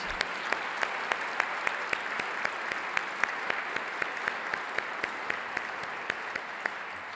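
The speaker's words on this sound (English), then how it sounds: "let's have a round of applause for all of these generous donors" Audience applause at a college dedication ceremony, honoring donors: a steady, moderately loud wash of clapping with sharp individual claps standing out across the whole stretch, no talking over it.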